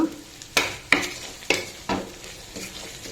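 Masala with salt and red chilli powder frying for a fish curry, a steady sizzle broken by about five sharp scraping stirs of a spoon against the pan, close and fairly loud.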